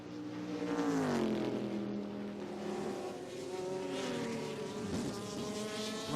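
A Corvette race car at the 2002 Petit Le Mans roars past, its engine note rising and falling through gear changes, loud and sustained with other engines trailing behind.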